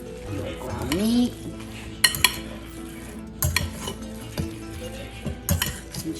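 A ground pork, bread and milk meatball mixture is stirred in a bowl, with soft squelching and a few sharp clinks of a utensil against the dish.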